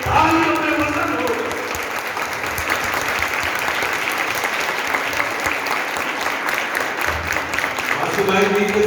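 A crowd gathered for a Republic Day celebration breaks into loud, sustained applause, with dense clapping running steadily across the whole stretch and a voice speaking at the start and end.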